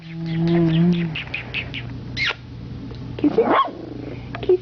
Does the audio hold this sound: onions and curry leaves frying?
no